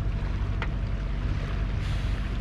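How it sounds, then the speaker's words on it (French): A sailboat motors under engine power through calm water in the Strait of Gibraltar, a steady low drone with wind and water hiss over it, continuous and fairly loud. "On est au moteur, ça va faire 5 heures qu'on fait du moteur."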